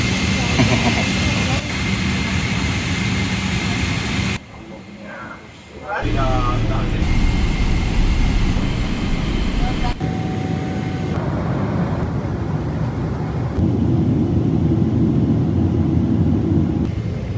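Cabin noise aboard a passenger airplane approaching landing, a constant engine drone and airflow rumble with shifting tones, clicks and brief interruptions, and people talking throughout.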